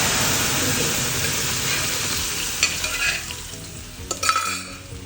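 Cooked amaranth leaf dal tipped into hot oil tempered with mustard seeds and asafoetida, a loud steady sizzle and crackle that settles, with a few stirring scrapes and clatters near the end.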